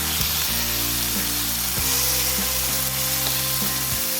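Fresh tomato sauce for a tuyo pasta dish sizzles loudly in a pan, a continuous frying hiss broken by regular scraping strokes of a utensil stirring the sauce.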